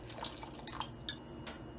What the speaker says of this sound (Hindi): अभी थोड़ा सा और डालेंगे पानी हम इसमें।